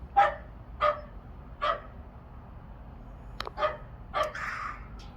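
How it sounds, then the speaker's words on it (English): A dog named Banner, guarding a woodshed, gives a series of sharp barks spaced roughly a second apart, moderately distant and fairly faint over low background rumble, with no talking. "never mind the dog"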